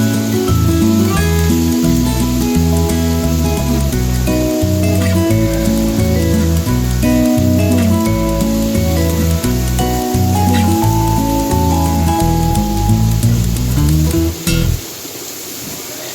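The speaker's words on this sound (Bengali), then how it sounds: "ভালোভাবে নেড়ে চেড়ে নেব আলুটাকে যাতে মশলাটা সব আলুর মধ্যে মিশে যায় পুরো আলুটার মধ্যে।" Potatoes coated in spices being stirred and fried in a pan, a steady sizzle running beneath loud, prominent background music until the music cuts out near the end.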